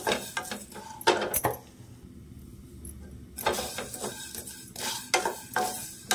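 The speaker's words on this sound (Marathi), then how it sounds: "थोडंसं आहे ना वास सुटेपर्यंत आपल्याला भाजून घ्यायचंय" Rasam powder spices dry-roasting in a pan on low heat, with repeated scraping and clinking of a spoon stirring against the metal over a faint sizzle, close up.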